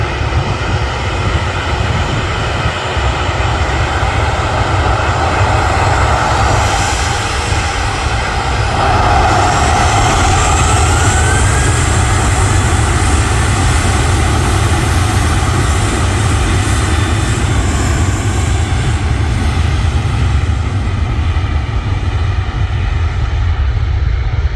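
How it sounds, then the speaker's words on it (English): An Airbus A330 airliner taking off at Manchester Airport, a loud, steady jet engine roar that sustains and swells throughout as it climbs away, heard up close with no talking. "What's better than one A330 takeoff? A second one."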